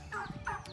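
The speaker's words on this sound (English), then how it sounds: "I love having turkeys. Turkeys are the bomb" Turkeys on a homestead flock of two males and six females gobble in two close, loud bursts with a short gap between them, with no other sound around them.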